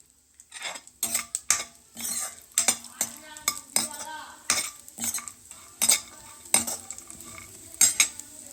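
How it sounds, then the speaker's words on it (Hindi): Almonds, cashews and walnuts dry-roasting in a pan rattle and clatter under repeated stirring, a metal spoon scraping and clinking against the pan in irregular bursts, close and fairly loud. "इधर ये ड्राई फ्रूट्स भून रही हूँ"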